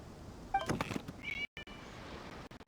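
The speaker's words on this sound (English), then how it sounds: "It was just a cat." In Genshin Impact, a single short meow rises out of quiet background ambience, followed by a faint dull thump and a near-silent pause.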